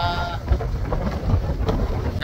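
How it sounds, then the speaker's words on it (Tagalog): Strong winter wind buffets the microphone in a steady, rough roar, with low rumbling gusts throughout and no clear talking. "tapos ganito kalakas yung hangin."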